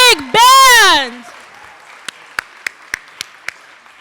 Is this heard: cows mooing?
no